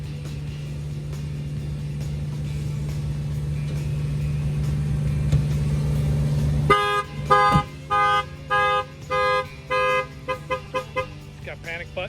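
A 2020 Jeep Wrangler's car alarm triggers after a steady low engine-like hum, then blares in repeated loud, close bursts with short gaps between them, with a faint voice underneath.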